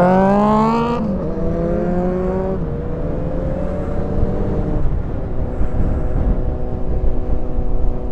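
Motorcycle fitted with an aftermarket, non-stock exhaust on a Friday night group ride, its engine droning steadily with rising and falling revs as it cruises, loud and close with wind noise.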